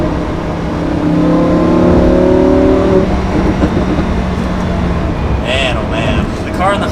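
Lamborghini Huracan LP 610-4 with its roughly 600-horsepower V10 accelerating on a highway, heard from inside as a loud rising engine drone that fades into road rumble, with a voice briefly speaking near the end.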